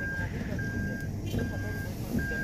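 Repeated steady electronic beeps from the rear cross traffic alert of a reversing Toyota Veloz, sounding in long evenly spaced tones over engine and road rumble, with a voice talking beneath.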